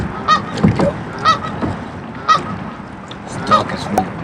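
An angry duck honks at a kayaker on a river, giving five loud, nasal calls spaced about a second apart over faint water and background noise.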